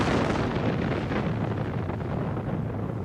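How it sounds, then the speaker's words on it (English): Volcanic eruption blasting away the face of the mountain, a sustained deep rumbling roar of explosion, loud and dense throughout without speech. "an explosion erupts with the power of 500 atomic bombs blowing away the face of the mountain"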